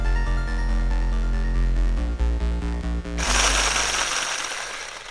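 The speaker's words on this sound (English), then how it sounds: "make a bunch of loud noise while whisking it" Liquid glycerin soap mixture being whisked hard in a bowl, a loud continuous metallic rattling and clatter that turns into a brighter, noisier scraping in the last two seconds.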